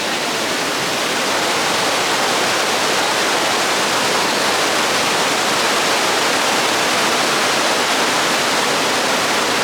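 Water rushes loudly and continuously at Benta River Falls in Jamaica, a dense, roaring wash close by with no letup and no voices.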